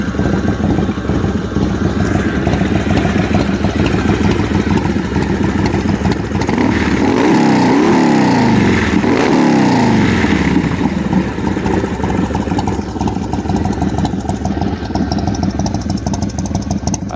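A 2000 Harley-Davidson Softail Springer with a D&D FatCat 2-into-1 exhaust runs steadily close by, its loud, lumpy V-twin rumble holding throughout with a brief rise and fall in pitch midway, no talking.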